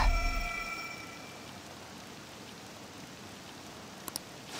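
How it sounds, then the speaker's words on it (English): Steady rain hiss in the video game Persona 5 Royal, a soft even wash of falling drops with no voices, and a couple of faint brief clicks near the end. "This rain ain't too bad."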